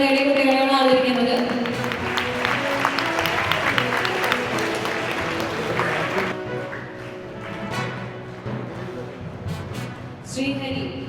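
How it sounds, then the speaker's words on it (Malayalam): Audience applause fills a sports award ceremony in Kerala honouring children who won medals in karate and kabaddi, with dense, steady clapping for about six seconds before it thins out and a voice speaks. "നിറഞ്ഞ കൈയടി കൊടുക്കുക."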